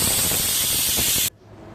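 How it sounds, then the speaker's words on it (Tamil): A pressure cooker cooking chickpeas vents steam in a loud, close hissing rush that cuts off abruptly, leaving quiet kitchen background. "2 விசில் வரட்டும்."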